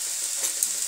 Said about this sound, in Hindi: इसको हम 5-6 मिनट तेज फ्लेम, गैस की फ्लेम अपनी थोड़ा तेज कर देंगे और इसी तरह से चलाते हुए पकाएंगे।